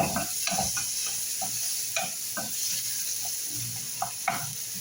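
Ginger being stirred and fried in a pan for a Bangladeshi bean-stuffing dish, a steady sizzle broken by repeated scraping stirs of the spatula, close and moderately loud with no talk.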